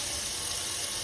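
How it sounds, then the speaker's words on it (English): Warm water runs steadily from a kitchen tap into a sink, a constant, even broadband hiss with no pauses, close and moderately loud, with no voices. "I get that water running"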